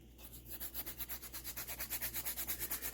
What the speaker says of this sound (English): Hit it with some Scotch-Brite